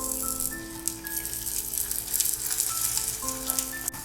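Rava wheat adai fries in a little oil on a pan with a steady, moderate sizzle, while a faint electronic tone pattern plays in the background; no one speaks.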